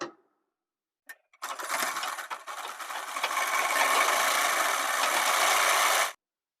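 Sewing machine stitching a kurti seam: after a couple of brief clicks, a close, steady mechanical whirr runs for several seconds and then stops abruptly.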